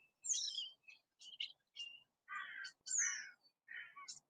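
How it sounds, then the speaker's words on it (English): Several small birds chirp and sing in a quiet back garden at midday, bright varied tweets and short trills coming in bursts with gaps of silence between, fairly close and clear with no talking. "can you hear the birds?"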